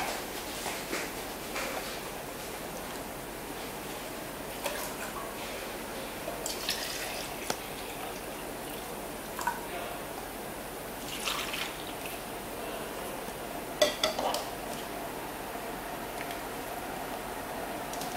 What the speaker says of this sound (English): At last, we add the water,